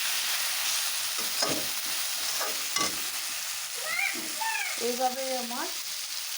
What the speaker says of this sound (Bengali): এখন মাছের সাথে মশলাগুলোকে আমি ভালোভাবে একটু কষিয়ে নেব।